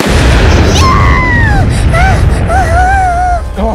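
A loud, sustained cannon boom fills the moment in a toy plush battle scene, rumbling heavily throughout, while excited voices cry out over it.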